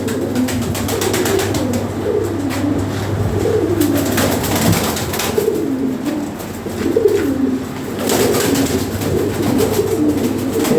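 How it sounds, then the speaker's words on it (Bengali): Original European Lahori Sirazi pigeons coo nearby in repeated rolling phrases that carry on through the whole stretch, with no talk over them. "টপ ব্লাডের কবুতর"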